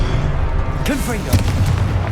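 Confringo fire-blast spells from Hogwarts Legacy boom out repeatedly over a steady rumbling game background, while a voice speaks briefly in the middle of the blasts.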